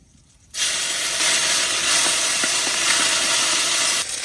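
Bay leaf, dried chili, cumin and ginger hit hot oil for a tempering in a fish head curry, setting off a sudden loud, steady sizzle and hiss that holds strongly for several seconds before easing slightly.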